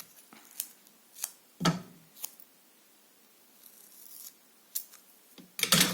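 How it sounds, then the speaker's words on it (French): Scissors cutting paper for a craft card, a few separate sharp snips spaced out by quiet pauses, close and fairly soft. "Ciseaux. Ciseaux, ciseaux."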